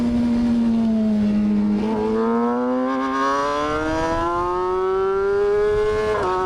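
A Kawasaki ZX-6R motorcycle howls loudly and continuously on the Road Atlanta race track, its engine note dipping briefly as it downshifts and then climbing steadily again.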